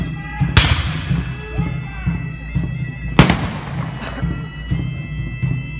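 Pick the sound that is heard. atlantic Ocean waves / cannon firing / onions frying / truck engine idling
cannon firing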